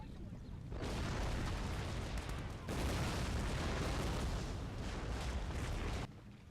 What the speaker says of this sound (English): The Austrian Jägers have opened fire into the backs of the British cavalry